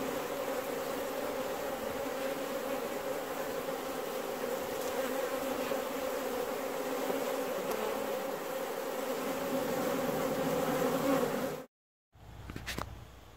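A dense, steady buzz of many bees droning continuously close by around a single hive in Newfoundland in September, ending abruptly with a brief silence and a short rustle.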